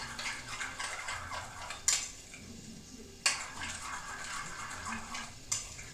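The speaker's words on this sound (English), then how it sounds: "Give that a little stir." A spoon stirs yogurt in a kitchen pot, giving soft scraping and a few sharp clinks of metal on the vessel, quiet and spaced out, with no voices.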